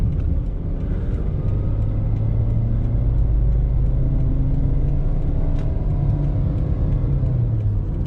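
A car engine hums and rumbles steadily while overtaking on an open road, a constant close drone with road noise and no talk.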